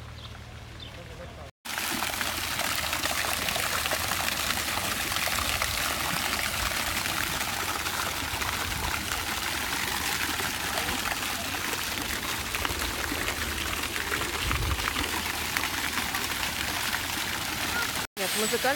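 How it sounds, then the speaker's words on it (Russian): Steady broadband rush of water splashing in a city fountain in Košice, continuous and fairly loud for most of the stretch, with a brief drop at the start and a cut near the end. "И здесь фонтан."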